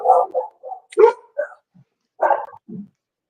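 Several big dogs barking in short, loud bursts, two or three barks at a time with brief pauses between, close by and with no talking.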